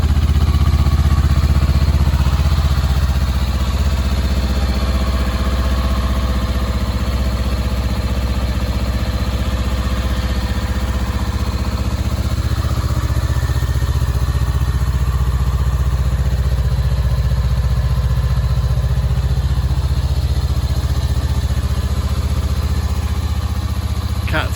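Honda CL500 motorcycle with a fitted Puig fly screen, heard as a steady, loud engine drone and rumble throughout, unbroken and close, with some clatter over the running engine.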